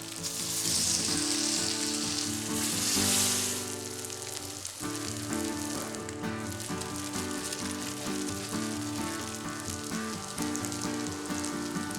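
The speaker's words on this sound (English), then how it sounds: "Ah, the sound of a searing burger." A veggie burger sears in a hot oiled pan with a steady, loud sizzle and crackle, alongside a soft tonal background hum throughout.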